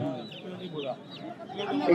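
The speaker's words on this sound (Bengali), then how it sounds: "এই যে এখানে দেখতে পাচ্ছেন বড় বড় দেশি মোরগ মুরগি" Native hens and roosters at a busy live poultry market, clucking and calling in a dense, close chorus that runs continuously beneath market chatter and voices.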